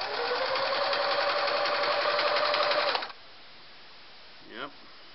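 A Singer 353 Genie sewing machine stitches at a steady fast whir for about three seconds and then stops abruptly, followed by quiet room tone and a brief faint sound near the end.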